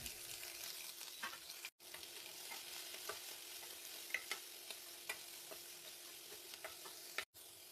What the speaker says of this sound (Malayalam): സവാള ഇഞ്ചി പച്ചമുളക് വെളുത്തുള്ളി എല്ലാം കൂടി ഒന്ന് അരിഞ്ഞ് ചേർക്കുക ഒന്ന് വഴറ്റാം